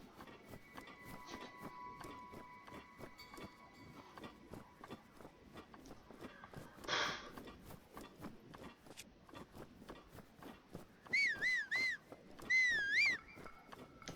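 A person whistles a short wavering tune in two bursts near the end, close and clear over a steady patter of footsteps, with no talk.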